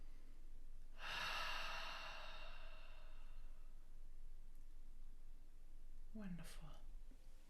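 During a breathwork session a person close by takes one long, deep, audible breath, then after a quiet pause lets out a short voiced sigh, over a faint steady background hiss.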